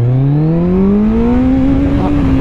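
A Kawasaki ZX-14R motorcycle accelerates hard in first gear with the front wheel lifting, its engine note climbing steadily and loudly toward about 8,000 RPM in one continuous close pull.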